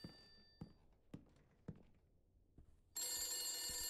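A telephone in the video game The Beast Inside, heard from a 1970s-styled office while moving near a basement: a faint ring sits under a series of dull footstep-like thumps, then a bright, loud ring bursts in near the end.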